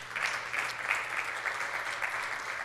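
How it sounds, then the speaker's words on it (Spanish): A church congregation applauds together in a steady, sustained wash of clapping that fills the space evenly from start to finish, with no voices rising above it. "¿Le puedes dar un aplauso a Cristo?"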